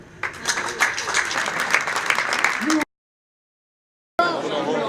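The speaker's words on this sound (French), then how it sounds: "On peut l'applaudir." Audience applause at a political party's New Year greetings event, dense clapping for nearly three seconds, then a gap of silence before more crowd noise returns.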